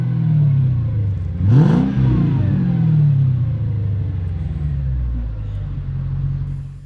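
A Mercedes CLK 500 engine idles with a low rumble, then is revved once sharply toward its 4000 rpm limiter in neutral, rising and falling quickly before settling back to a steady idle.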